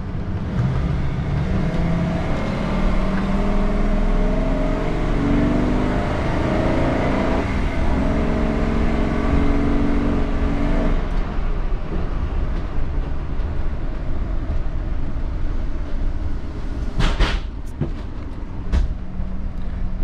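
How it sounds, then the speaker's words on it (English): Gas-powered Class A motorhome engine revving to high RPM while driving at modest speed, a loud continuous droning roar with road and cabin rumble that shifts in tone partway through. "Now, I know we're not going super fast, but I was revving up the RPMs pretty high."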